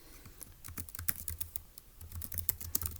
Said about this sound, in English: Let's type that up in our notes.